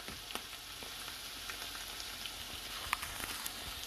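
Garlic sizzles and fries steadily in a hot pan, a continuous crackling hiss close by with occasional sharper pops, and no voices.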